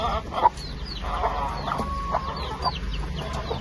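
Chickens cluck in a home yard, a run of short, moderately close clucks and chirps spread over a few seconds of low background noise.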